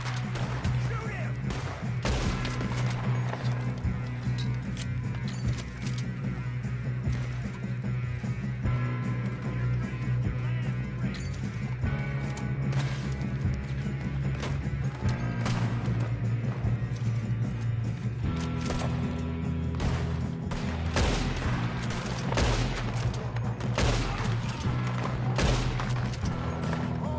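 Red Dead Redemption 2 shootout: repeated sharp gunshots and scattered volleys crack over a steady low rumble, with clicking weapon mechanisms and voices talking between shots.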